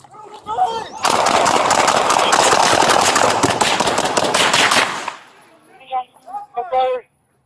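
Rapid gunfire bursts out during a police shooting on a street, a loud sustained volley lasting several seconds, followed by shouting voices.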